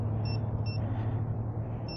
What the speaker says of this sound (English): low battery beeps